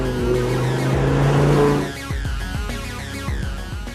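An Audi R8 sports car with a 4.2 FSI engine roars at high revs, then shifts to rapid, rhythmic engine pulses as it sweeps through curves. It is loud and close throughout, and no one speaks.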